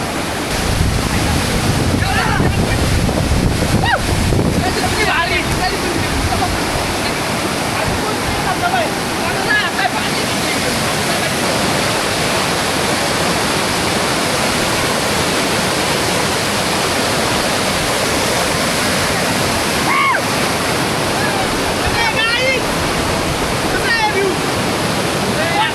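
A dense, constant roar of the monsoon-fed Kondeshwar Waterfall in Kamshet fills the scene up close, with wind buffeting the microphone and occasional voices speaking under the rush of water.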